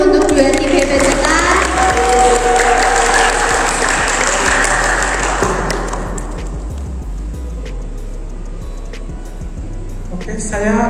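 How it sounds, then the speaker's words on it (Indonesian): Audience applause for two debate teams at a student council candidate debate, a dense wash of clapping with crowd noise that thins out after about six seconds, with voices mixed in. "Sebelumnya beri tepuk tangan dulu untuk 2 tim hebat kita."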